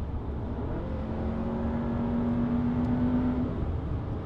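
A Volkswagen Arteon in sport mode accelerating hard, giving a steady, fairly loud engine roar with a whine that climbs in pitch and then cuts off near the end. No one speaks.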